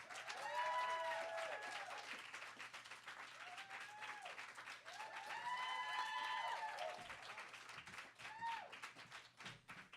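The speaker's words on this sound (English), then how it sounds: "Can you guys keep the applause down a little bit?" A studio audience applauds to welcome a band onto a radio station's live sound stage. The clapping is fairly soft and steady, with excited whoops and cheering voices rising over it.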